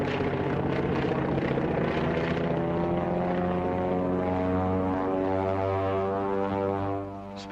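A propeller aircraft drones as it dives at altitude, with a loud, steady multi-toned engine roar that holds constant before easing off slightly at the end.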